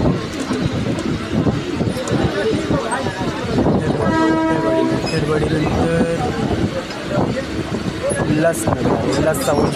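A train runs past in Mumbai, a steady rumble and rattle of rail cars with a brief horn tone midway, loud and continuous throughout, with voices mixed in.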